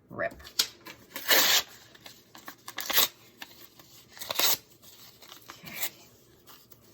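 Paper is torn into pieces for a pumpkin craft, with several close, sharp ripping bursts spaced irregularly and softer rustling between them, and a voice speaks briefly.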